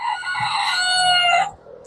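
Chickens at feeding time let out a loud, close rooster crow with clucking, one sustained call of about a second and a half before trailing off.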